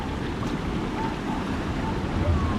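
Stormy sea churning against the Yalta embankment in cold weather, a continuous roaring rush of surf and wind noise buffeting the microphone, swelling slightly louder near the end.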